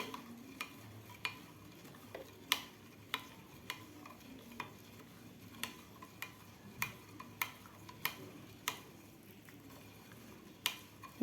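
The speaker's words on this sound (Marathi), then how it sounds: "व्यवस्थित चमच्यानं हलवून आपल्याला पूर्ण गूळ आपल्याला दुधामध्ये विरगळून घ्यायचं आहे" A spoon stirs chopped jaggery into milk in a pot, giving sharp metallic taps against the side every half second or so over a faint background, with no voices.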